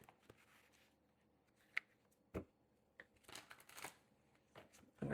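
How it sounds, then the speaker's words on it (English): Tarot cards shuffled by hand, a few quiet riffling bursts and soft slaps of the deck, close and faint in an otherwise still room with no speech. "give this a few shuffles"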